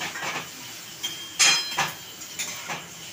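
Capsicum and tomato are stirred in a pan, with a series of soft scraping clinks of a utensil against metal, spaced irregularly and fairly close, with no talking.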